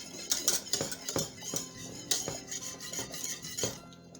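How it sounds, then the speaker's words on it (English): A spoon stirs plant-based Thanksgiving food in a pot, making steady rhythmic scrapes and clinks against the metal, close and moderately quiet, with no talk over it. "And you just keep stirring."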